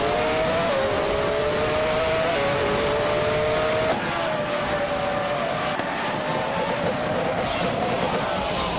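Engine of a 1996 Sauber C15 race car in a racing video game, a steady high-pitched whine holding pitch with small upshifts, loud and continuous close up, easing slightly in tone partway through.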